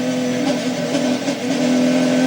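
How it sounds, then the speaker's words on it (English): Race car at the 2002 Petit Le Mans endurance race, its engine droning loudly and continuously with a brief dip as it shifts up through the gears, heard from the car. "Listen to that motor sing"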